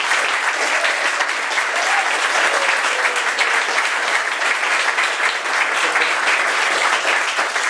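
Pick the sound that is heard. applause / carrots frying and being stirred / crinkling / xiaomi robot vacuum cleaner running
applause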